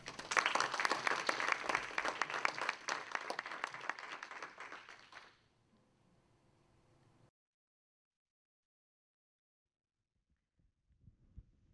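Audience applause welcoming a guest lecturer at Cornell, a dense, loud burst of clapping from a full room that fades out after about five seconds, leaving near silence.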